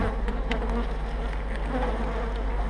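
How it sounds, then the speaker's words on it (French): A dense, steady hum of many honeybees buzzing together at a strong, populous hive, close and continuous with a low drone underneath. "on a une ruche très forte, très populeuse"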